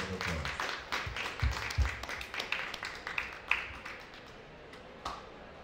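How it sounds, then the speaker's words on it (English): A small group applauds at the close of a climate-resilient agriculture meeting, sparse, uneven claps that fade out over a few seconds. "Round of applause."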